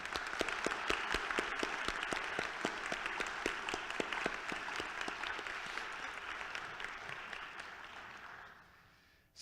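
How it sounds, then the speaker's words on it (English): At a town meeting, a crowd gives sustained applause for retiring police and fire chiefs, the clapping dense and rhythmic with a few louder claps, fading out at the end. "Let's applaud them both."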